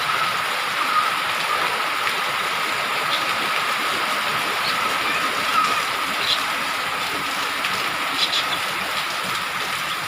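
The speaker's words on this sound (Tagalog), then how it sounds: "Malakas ang ulan" Heavy monsoon rain during the habagat season brought by Typhoon Nangka pours down as a steady, dense hiss that stays loud and even throughout, with no talking.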